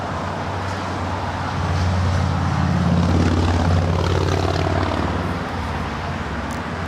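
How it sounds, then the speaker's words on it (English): A C-17 military jet approaches runway 24 at LAX, its engines a loud, steady roar that swells gradually and then eases slightly, continuous throughout with distant roadway traffic beneath. "the C-17 more than likely is now approaching 24 right there on the north side"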